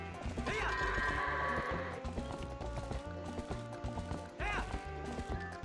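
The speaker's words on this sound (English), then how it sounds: "Goats too." Goats bleating in the video game Twilight Princess, several wavering bleats rising over game music, with clattering hooves and knocks in the background; no talk.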